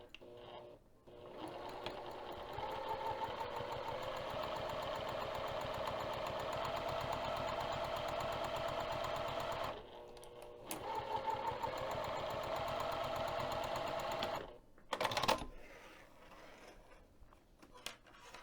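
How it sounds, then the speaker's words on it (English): A sewing machine machine-quilts an insulated bag at a 3 mm stitch length, running in long steady stretches with brief pauses around ten and fifteen seconds, its fast mechanical rhythm close and continuous. "I'll be machine quilting using 3 millimeters"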